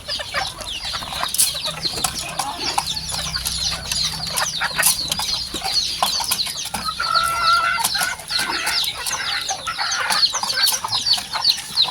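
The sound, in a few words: chickens and chicks clucking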